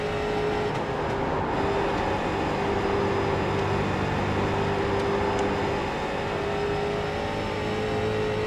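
A street stock race car engine at Bristol Motor Speedway in iRacing drones loudly and steadily, a constant buzzing roar with a sustained tone, alone and close.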